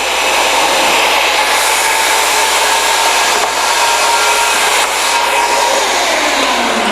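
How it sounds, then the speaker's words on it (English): A Ruwac Baby Red Pro vacuum runs with 75 feet of hose attached, a steady loud broadband roar holding unbroken throughout with no pauses. "You could leave the vacuum downstairs and pick all this material up quickly"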